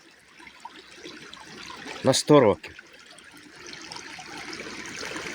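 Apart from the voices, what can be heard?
forest stream flowing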